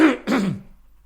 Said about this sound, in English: I'll have to cough and you can edit that out.